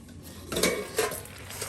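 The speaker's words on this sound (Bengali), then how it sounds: "আর মাছগুলো এখন এই যে দিয়ে দেওয়া হচ্ছে দেখুন।" Fish going into a pot of vegetables in a village kitchen, with a couple of clinking scrapes of a utensil against the metal pot over a steady background hiss.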